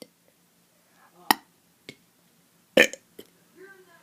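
A person burping, several short, separate belches spaced irregularly across a few seconds, with quiet pauses between them and faint vocal sounds in the background.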